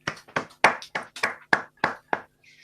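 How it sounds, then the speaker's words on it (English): Small audience clapping after a mathematics talk, about nine distinct, spaced hand claps in a sparse, uneven rhythm, fairly close and alone, with a faint ping at the end. "a clap"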